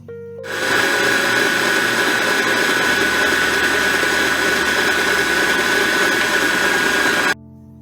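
A stand mixer with a whisk attachment runs on high speed, a loud, steady whirring drone that starts abruptly, holds evenly for about seven seconds, then cuts off.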